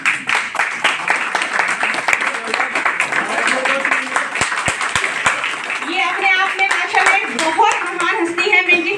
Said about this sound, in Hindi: मैं चाहती हूँ आप बहुत अच्छे से ताली से उनका स्वागत करें।